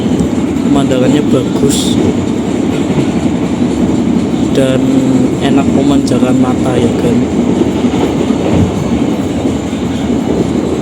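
Java Priority passenger train running on rails through rice-terrace countryside, a loud steady rumble with clickety-clack from inside the carriage while a person talks over it.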